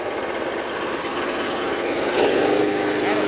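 An '07 Snapper mower with an electric-start Briggs & Stratton OHV Intek 190cc engine runs close by with a steady, rough drone that grows a little louder partway through, and a voice is heard faintly beneath it.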